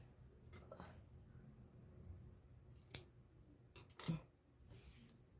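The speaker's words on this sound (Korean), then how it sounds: "50cm 길이로 잘라주시면 됩니다." Scissors cut fabric to a 50 cm length for a flower sun bonnet, giving two or three faint, brief snips in a quiet room, with no talking.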